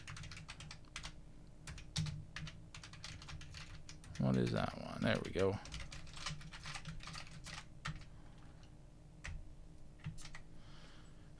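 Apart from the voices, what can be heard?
typing on a Columbia Data Products VP portable computer keyboard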